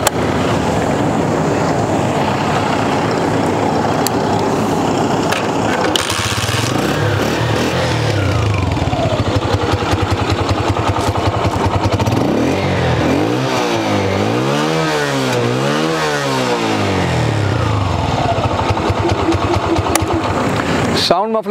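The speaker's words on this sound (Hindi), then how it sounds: "साउंड मफलर जैसा होता है बिल्कुल सेम CG125 का है, तो साउंड भी उसी टाइप की प्रोड्यूस कर रहा है।" A 125cc motorcycle with a CG125-style muffler starts and settles into a steady idle, then revs up and down in rising and falling swells, loud and close, with people talking over it.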